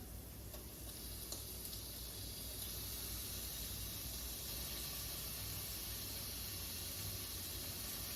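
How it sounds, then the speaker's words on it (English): Partly frozen ground beef frying in a pan for chili, a faint, steady sizzle and hiss throughout with no talking. "I'm going to add the ground beef first, and my ground beef is still a little frozen"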